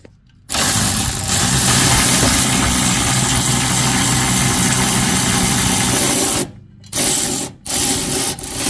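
An electric impact tool spins 21 mm bumper bolts off a Ram 1500 rear bumper step in a loud, continuous whirring burst lasting several seconds, then stops and gives two more short bursts.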